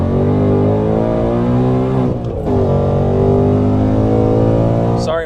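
A Whipple-supercharged 2024 Mustang pulls hard from a 40 mph roll in second gear, its loud, close engine droning and climbing, with a brief dip at a gear shift before it surges again.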